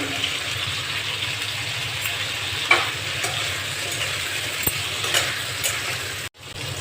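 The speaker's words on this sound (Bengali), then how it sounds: "এবার এতে দিয়ে দেব কেটে রাখা গাজর আর বিনসের টুকরো। নেড়ে নেব।" Carrot and bean pieces stir-fried with salt in a pan with lightly fried cauliflower, giving a loud continuous sizzle broken by scattered spatula scrapes and taps against the pan, close up, ending in a brief cutoff.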